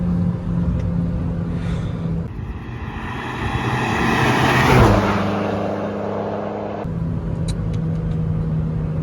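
A stage 2 Mercedes and a Honda Civic drag race, their engines roaring loudly up close as one revs hard and sweeps past, then settles back to a steady drone, with no talk.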